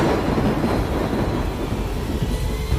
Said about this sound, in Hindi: बिजली कड़कती है।